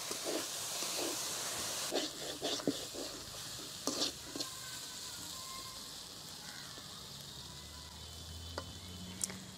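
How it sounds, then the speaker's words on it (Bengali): Boiled potatoes fry in a pan with salt and turmeric, giving a steady close sizzle and hiss throughout, broken by a few scraping stirs and light clinks of a utensil. "পটেটোগুলো সেদ্ধ হয়ে গেছে, ভাজাও হয়ে গেছে"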